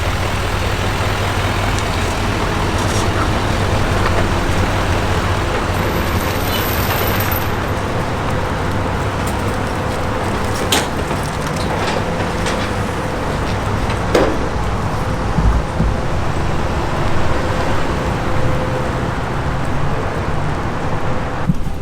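An L5P diesel pickup truck driving, a loud, constant road and engine roar that holds steady throughout with a few brief knocks and rattles, with no voices.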